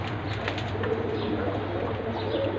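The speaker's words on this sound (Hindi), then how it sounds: "ये है नर, सफ़ेद आँख का पंजाबी कबूतर" A white-eyed Punjabi pigeon coos softly against a steady low background hum, with a few faint higher calls over the continuous murmur.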